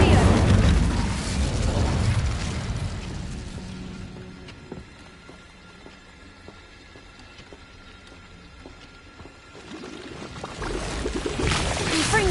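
In Hogwarts Legacy, the Incendio fire spell bursts with a loud whooshing roar. The blast fades to a quieter crackle, then surges again at the end, and a voice speaks over the start.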